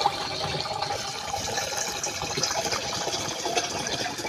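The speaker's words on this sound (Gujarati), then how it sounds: "હું પાણીની ધાર કરી રહ્યો છું" Water pouring steadily into a barrel used to mix pesticide for spraying a chilli field, a continuous gushing stream heard close and alone for several seconds.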